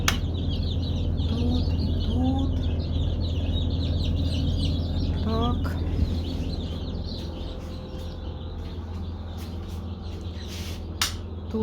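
Chickens cluck softly here and there over a steady low hum, with a few sharper calls standing out.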